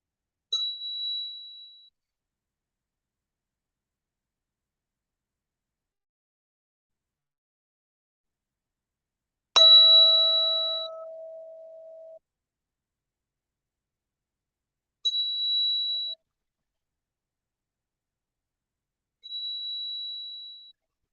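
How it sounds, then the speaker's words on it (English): A 639 hertz tuning fork struck four times, each strike ringing as a pure sustained tone that fades out. Long silences separate the strikes, and one strike carries a lower, longer ring. "tuning fork. I'm gonna strike it a few times to clear the energy"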